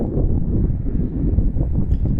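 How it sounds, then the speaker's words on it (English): Wind buffets an outdoor microphone at sunset with a steady low rumble and gusty flutter throughout, loud and continuous, with no voices. "It's a little windy, so I apologize about that."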